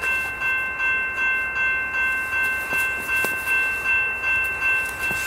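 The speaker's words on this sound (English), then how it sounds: "Look at the train is coming." A Metra commuter train arrives at a station nearby with a regular rhythmic clatter of wheels over rail joints and a steady high tone above it, loud and continuous.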